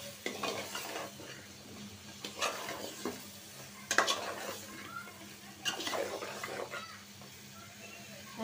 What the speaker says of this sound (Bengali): এখন মশলার সাথে ভালো করে একটু মিশিয়ে নিব।